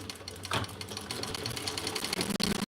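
A sewing machine stitching fabric runs steadily with a fast, rattling mechanical hum, quiet and close, with a slight change in pace near the end and no talking.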